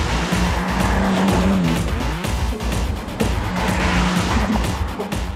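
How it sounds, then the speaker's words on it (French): A BMW M3 Touring drifts in fourth gear at about 50 km/h, heard from inside as a loud, steady engine drone with tires scrubbing and squealing throughout. "Tegen 50 km/h in 4e versnelling, dan nog heeft hij zoveel koppel dat we aan het driften zijn"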